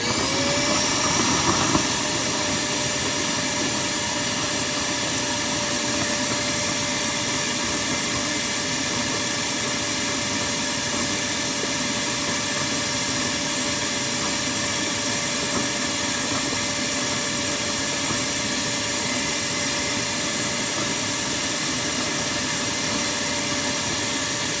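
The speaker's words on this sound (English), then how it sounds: "leave the vacuum cleaner on to keep the water sucked out of it" A steady, droning vacuum cleaner motor sucks water from a hole at an underground water line leak, running continuously with a whooshing, airy hiss, loud and close, with no talking throughout.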